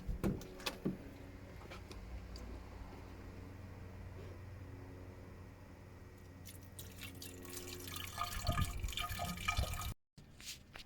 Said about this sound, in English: we are going to begin filling with water and coolant